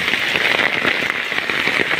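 Heavy typhoon rain from Typhoon Kristine pours down in a steady, dense roar, continuous and loud throughout with faint crackling drops, no talking.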